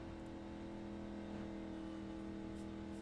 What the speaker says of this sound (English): Sounds like he's just riding along here in fourth gear.